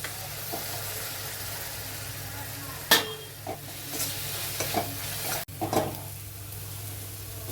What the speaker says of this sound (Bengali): দিয়ে দিচ্ছি টমেটো বাটাটা